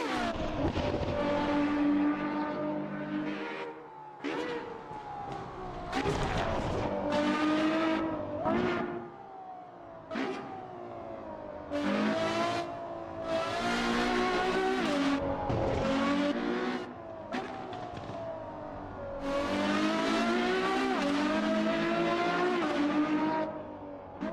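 Race car engine in an Assetto Corsa Evo replay, loud and close, revving hard through repeated gear shifts with rising and falling pitch and brief tire squeals between bursts.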